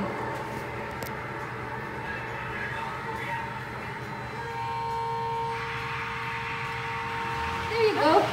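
A train passes the Marshall, Texas depot, a steady rumble with a long horn-like tone building midway and a louder swell near the end, while people talk nearby.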